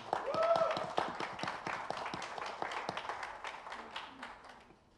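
Scattered clapping from a small group at a Filmfare special awards unveiling, loose and uneven hand claps that swell early then gradually thin and fade, with a brief voice near the start.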